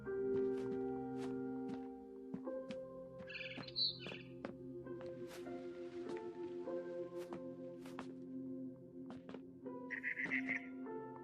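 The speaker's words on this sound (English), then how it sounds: "Then I heard chirping outside my window." Short barn swallow chirps from the game What Remains of Edith Finch ring out in small bursts over a steady droning musical background, with occasional clicks.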